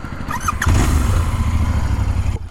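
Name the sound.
Royal Enfield Interceptor 650 motorcycle with stock exhaust, idling and revving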